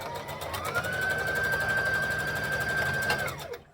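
A sewing machine stitching the side seams of a garment runs up to a steady high whine, holds it for a few seconds, then winds down and stops, close and fairly loud.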